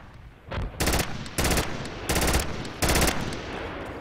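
Four bursts of automatic gunfire in the military shooter game Project Reality with MEC infantry, each sharp rapid volley lasting about a third of a second, loud and close, no talking.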